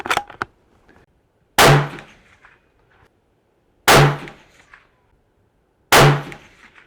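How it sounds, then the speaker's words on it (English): Three sharp, loud rifle shots from a CZ 527 American in 300 Blackout, fired at an orange target at a range. They come about two seconds apart, each with a short fading tail, after a few faint clicks of rifle handling. "I'm going to shoot another group out of that"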